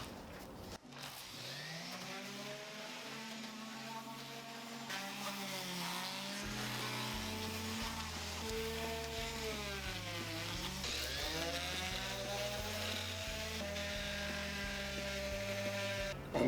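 A power sander works a wooden table base with 220-grit paper, a steady loud whir that rises and shifts in pitch as it moves across the wood, running continuously throughout.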